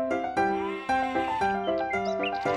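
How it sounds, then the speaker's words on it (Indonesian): A goat bleats in a quick series of about five wavering, nasal cries, each loud and close, with short gaps between them and no talking. "Dahulu kala ada seekor kambing tua."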